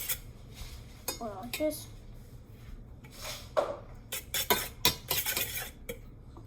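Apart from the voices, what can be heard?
child stirring food in a bowl with a utensil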